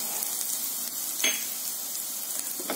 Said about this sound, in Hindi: अब इनको 2-3 मिनट भूनेंगे।